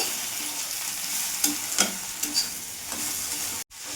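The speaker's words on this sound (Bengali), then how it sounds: "জিরে গুঁড়ো দিয়ে দেবো আমার একটু লঙ্কা গুঁড়ো দিয়ে দিলাম ভালো করে নাড়াচাড়া করে নেবো" Okra curry frying in a pan with cumin and chili powder, stirred with a spoon: a steady close sizzle with a few sharp scrapes and clicks of the utensil, ending in a brief sudden gap.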